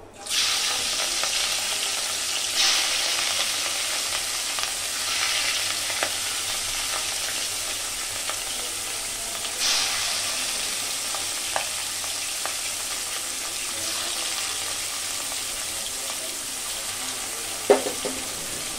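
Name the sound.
turmeric-coated fish pieces frying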